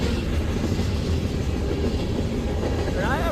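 Train rolling past on the Cleveland subdivision near Huron and Vermilion, Ohio: a steady, close rumble and rattle of railcars that stays loud and unbroken for the whole stretch.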